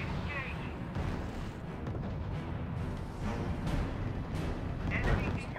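Heavy gunfire and artillery from the R.U.S.E. strategy game rumble continuously, a dense, steady barrage with scattered louder bursts, under a voice reporting unit activity.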